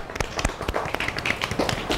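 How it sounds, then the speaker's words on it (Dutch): Cupped hands pat briskly along an arm during a warm-up exercise, producing a fast, uneven run of close, sharp, hollow taps for about two seconds. "Gaan we andere arm wakker kloppen."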